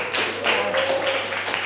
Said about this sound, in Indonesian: kasih tepuk tangan untuk kelompoknya Satria